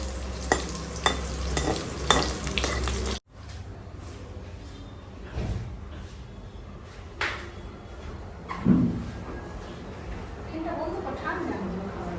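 Nuggets frying in a pan with stirring and scraping, starting loud and busy then settling into a softer sizzle broken by occasional clinks, with people talking nearby.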